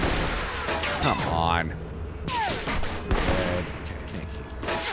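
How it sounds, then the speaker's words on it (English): Rapid bursts of gunfire in a multiplayer shooter video game, volleys repeating throughout amid game noise, with a player talking over the shots. "Oh, who are you to be shooting at me, sir?"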